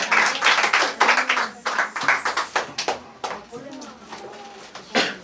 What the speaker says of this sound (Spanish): Y ahora le vamos a dar un aplauso porque Él es el santo, santo, santo.